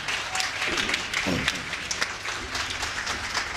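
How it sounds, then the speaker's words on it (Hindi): A Hindi comedy poetry gathering breaks into audience clapping, a loud close-sounding patter of many hands that holds steady throughout. "आपकी तालियां मेरी थकान मिटाएगी। एक बार जरा बजाते हैं।"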